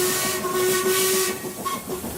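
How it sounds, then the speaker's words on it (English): Steam engine whistle in the Sodor Online game blows a sustained, loud tone over a hissing of steam, then gives a brief second toot. "it was swallowed by the sound of Murdoch's own whistle"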